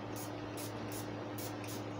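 Perfume sprayed from a bottle after a shower, four quick hissing spritzes in steady rhythm, close and fairly soft over a constant low background hum.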